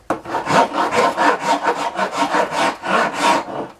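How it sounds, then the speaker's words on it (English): A farrier's rasp files a yew wood bow billet in long, steady strokes, about a dozen rhythmic rasping passes close to the mic with no talking. "Get the bad boy rasp on it, the farrier's rasp."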